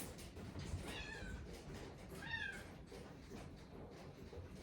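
A cat meows twice indoors, two rising, drawn-out cries about a second apart, near and fairly soft over a faint background hiss.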